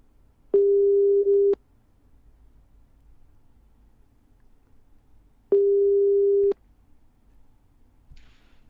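A phone ringback tone from a call placed during a podcast sounds twice, each a steady one-second electronic beep separated by several seconds of quiet, fairly close and clear.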